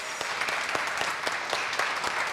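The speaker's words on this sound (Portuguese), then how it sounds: "Muito bem, palmas para eles." An audience at a Portuguese-language lecture claps, a moderate patter of applause with a few distinct sharper individual claps standing out, fairly close and continuous for over two seconds.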